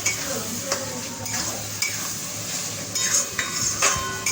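Utensil scraping and stirring spiced meat curry in a pan during kasha sautéing, with soft sizzle underneath and repeated metallic clinks against the pan, close and steady with no talking.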